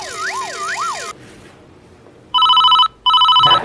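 A mobile phone rings loudly nearby. A warbling, sweeping electronic tone plays first, then after a short pause come two bursts of a pulsing, bright trill ringtone.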